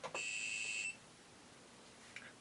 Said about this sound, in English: Mini buzzer.